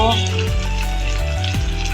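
Potatoes, papaya and mutton for a mutton stew sizzle steadily in a hot pan, a continuous loud frying hiss with occasional stirring scrapes.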